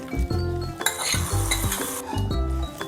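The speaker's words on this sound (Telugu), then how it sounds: "ఇట్లా మిక్స్ చేసుకోవాలి. లో ఫ్లేమ్ మీదనే మిక్స్ చేసుకోండి." Semiya and sago payasam is stirred in a pot on low flame, with rhythmic metal spoon scrapes and clinks over a constant bubbling sizzle, close and loud, with no talking.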